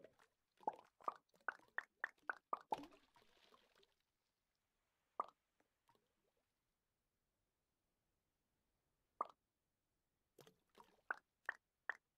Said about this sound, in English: And also the little plops in the water.